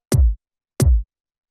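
Two dry, deep drum and bass kick hits, unprocessed without drum bus, each a short punchy thump with a quick click on top, evenly spaced with silence between.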